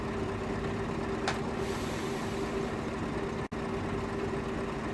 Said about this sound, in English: That is the compressor kicking in. And it does cut out once the air pressure is built up.